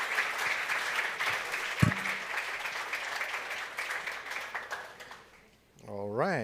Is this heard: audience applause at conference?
yes